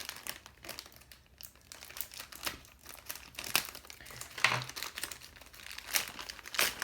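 Packaging crinkles and rustles in irregular bursts up close, sharp crackling plastic or paper sounds with brief pauses between handfuls.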